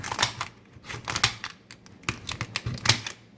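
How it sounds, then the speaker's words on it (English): Kitchen shears snip through lobster shell in a quick series of sharp, close clicks and cracks, irregular in rhythm and fairly quiet, with no talk over them. "Taking scissors, kitchen shears, and just cutting it through the top,"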